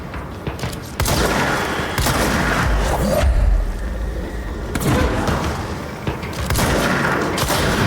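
Exploding enemies in the video game Control set off loud, close booms at intervals among the surrounding combat, each blast a sharp burst followed by a rumbling tail.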